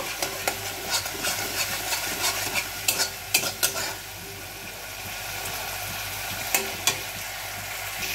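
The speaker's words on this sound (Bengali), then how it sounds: "একটু হলুদ গুঁড়ো দিয়ে দিলাম। হলুদ গুঁড়োটা মিশিয়ে নেব।" Turmeric powder stirred into spices frying in oil for a raw papaya curry, a steady close sizzle with scattered scraping stirs and a few sharper clinks, no voices.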